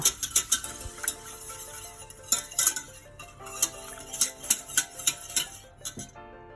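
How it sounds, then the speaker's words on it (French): Cold milk and egg stirred together in a bowl, with a utensil making quick rhythmic clinks and scrapes against the bowl in repeated bursts, close and clear. "Mélangez le lait froid avec l'œuf."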